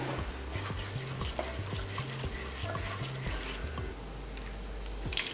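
Urad dal, cumin seeds, black peppercorns and fenugreek seeds are tempered in hot oil, giving a steady close sizzle with soft stirring, over a low stepped tone pattern in the background.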